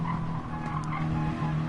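Race car in a racing video game oversteering into a hairpin at Fuji Speedway during a GT championship round, with a steady engine drone and sustained tyre squeal heard loud and continuous throughout.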